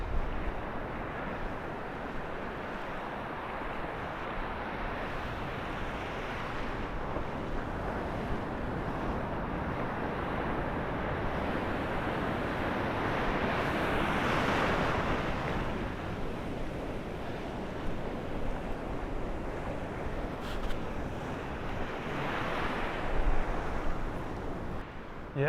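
Surf rolls in at Muriwai beach, a steady wash of breaking waves with gusty wind on the microphone. The roar is loud and continuous with slow swells, and nobody talks.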